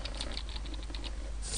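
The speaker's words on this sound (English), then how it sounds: "as you can hear, I'm typing this all live" Live keystrokes on a computer keyboard while entering autopilot target-tracking settings in the FlightGear 2.0 flight simulator; light, quick clicking taps in an uneven rhythm, close and fairly quiet, with no voices.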